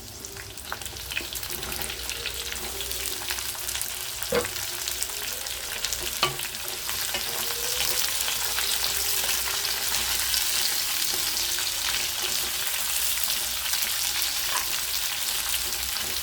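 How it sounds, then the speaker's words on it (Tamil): Chopped onions with garlic cloves sauté in a hot pan for spicy kara chutney, a steady sizzle and fry with a few sharp stirring scrapes, no voices. "நல்லா வதக்கணுங்க."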